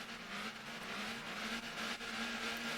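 Race cars launch at the start of a gravel race in the driving game Motor Town, producing a steady, continuous engine drone with a sustained hum throughout and no voices.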